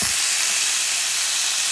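Honey-glazed sausages and ribs sizzling on a cast iron griddle, a dense, steady crackling hiss that stays loud and close for the whole short stretch.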